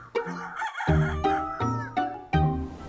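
A rooster crows, a drawn-out call broken into segments, close and loud, with no one speaking.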